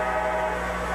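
A train passes near a high school football stadium during a 1995 Martins Ferry game, a steady rumbling drone with sustained horn-like tones held evenly throughout at moderate loudness.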